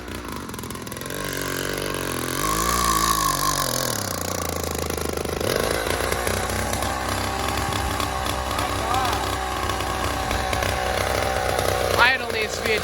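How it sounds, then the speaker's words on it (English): A small two-stroke engine on a motorized bicycle with an exhaust leak runs raspy and loud, revving up and settling into a buzzy, uneven idle, with people talking over it. "We got an exhaust leak, but it started."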